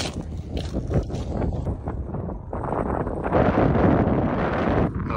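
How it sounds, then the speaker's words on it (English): Strong gusts buffet the microphone at a wet, windy seaside, a loud low roar rising and swelling over several seconds, no talking. "So it's very windy"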